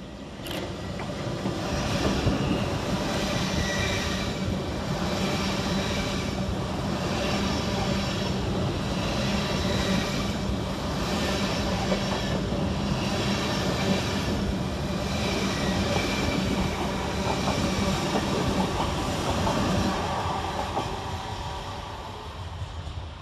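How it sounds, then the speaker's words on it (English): An LNER Azuma, unit 800105, running as the Aberdonian from London King's Cross to Aberdeen, rumbles steadily through Bowes Park station. The loud, continuous roar holds for over twenty seconds with no voices. "Next up for LNER is 800105, working 1 Whiskey 11, the Aberdonian, from London King's Cross to Aberdeen."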